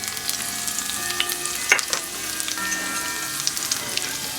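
Whole spices (bay leaves, peppercorns, cumin seed, green cardamom, cinnamon, cloves) frying in oil in a pan for chicken korma, a steady close crackling sizzle with a few sharper pops and faint stirring, no talk.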